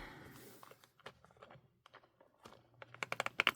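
Snap-in sticky notes being pressed into a small planner, a scatter of soft clicks and rustles, then a quick run of sharper snapping taps at the end, close and fairly quiet.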